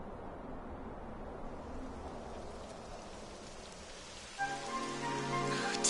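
Rain begins falling in Dragon Quest XI S, a steady hiss of drops filling the scene, joined near the end by brighter sustained tones over the wash.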